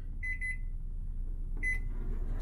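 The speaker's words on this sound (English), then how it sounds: "I'm gonna microwave it." A microwave oven heating a cup of savory Keto Chow gives two quick bursts of high beeps, a short triple chirp followed by another after a pause, over a low steady hum.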